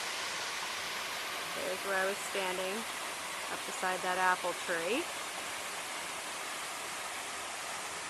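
A creek waterfall rushes in a steady, broad roar that fills the whole stretch, with someone speaking briefly over it.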